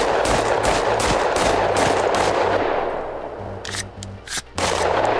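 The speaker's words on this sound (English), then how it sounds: "Someone shot at me? Sound like someone shot at me." Gunfire in the video game Totally Accurate Battle Zombielator: rapid bursts of automatic shots in quick repeated volleys, loud and close, with a brief lull before firing resumes.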